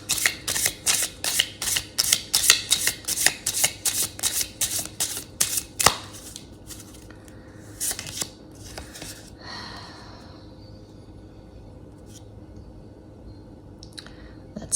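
Tarot cards are shuffled in rapid, crisp riffling bursts close by, a quick run of flicking snaps that thins into scattered single card taps and soft handling noises later on.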